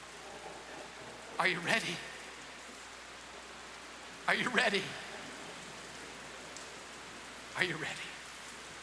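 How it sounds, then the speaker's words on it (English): A rain sound effect plays during a church sermon, a steady, faint hiss of rainfall running throughout while a voice speaks in three short, separated bursts over it. "God, send your rain. Rain is coming."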